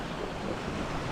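Sea waves at Larnaca washing steadily in a continuous broad rush, with no voices.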